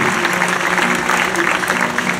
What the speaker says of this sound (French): On l'applaudit pour cette performance.